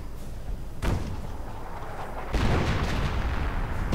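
Artillery fire in a strategy video game, two heavy booming impacts about a second and a half apart, each followed by a long rumbling wash of noise under a steady background roar.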